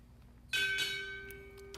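A ceremonial ship's bell at a Navy chief petty officer pinning ceremony rings out in two close strikes, each leaving a bright, sustained metallic ring that slowly fades.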